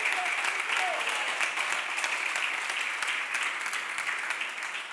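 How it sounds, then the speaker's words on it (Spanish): A church congregation applauds during a Spanish-language sermon, a steady, dense wash of many hands clapping that stays loud and even for the full stretch with no voices on top. "Dale un fuerte aplauso a nuestro Dios"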